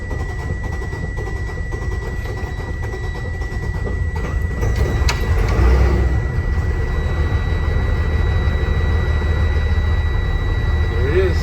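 An engine cranks for a long stretch after an oil change while the oil pump primes. It gives a steady, loud mechanical drone with a deep low rumble that grows a little stronger partway through.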